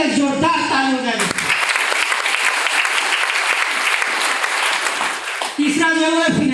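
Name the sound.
audience applause at an academy seminar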